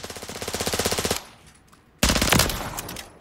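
MP7A2 submachine gun firing in Call of Duty: Modern Warfare III, two loud close bursts of rapid automatic shots separated by a short pause.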